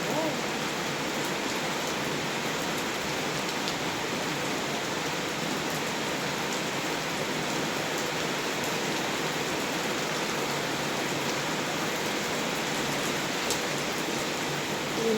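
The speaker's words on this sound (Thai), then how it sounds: "ฝนตก" Heavy rain pours down steadily outdoors, a dense, unbroken wash of hiss with faint scattered drips, loud and constant throughout.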